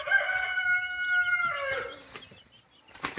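A rooster crows one long cock-a-doodle-doo at close range, its drawn-out tonal call falling off at the end, followed by a faint rustle and a short cluck from farm fowl.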